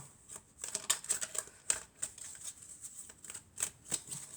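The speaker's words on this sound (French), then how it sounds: "on va prendre quelques cartes" Tarot cards are shuffled by hand, with quick crisp riffles and slaps coming in irregular bursts, close and fairly quiet, with no talking.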